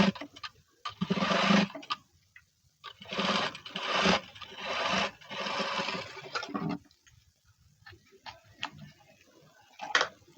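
A sewing machine stitching blouse cloth runs in several bursts of rapid, even needle ticking, close and fairly loud, with short pauses between runs and small clicks as the fabric is adjusted.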